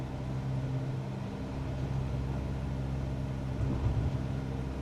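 A Cessna's piston engine in Microsoft Flight Simulator 2024 holds a steady, loud drone with low harmonic hum for about five seconds, rising slightly in intensity toward the end as the RPMs build.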